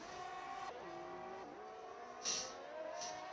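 Pit lane ambience from an F1 racing video game at the Hungary round, a steady engine and crowd wash with pitch sweeps and brief brighter swells, continuous and without talk.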